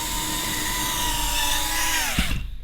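Steady high-pitched whine of a FrSky Vantec Q100 quadcopter's motors held at half throttle, loud and close, with the pitch dropping as the motors wind down at the end.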